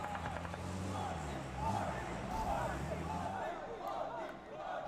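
A large esports arena crowd at a PUBG Mobile World Cup group-stage match roars and cheers in a sustained wash of noise, with a caster talking over it.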